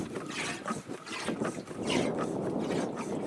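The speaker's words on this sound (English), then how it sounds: "You can hear it moving the water in here." A Road Shower pressurized water tank for a truck camper is pumped by hand, giving repeated mechanical strokes with water sloshing inside, moderately close and fairly quiet.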